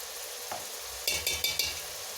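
Spinach and potatoes frying in oil with red chili powder and salt, a soft steady sizzle in a pan broken by a few quick clinks of a spoon stirring against the pot.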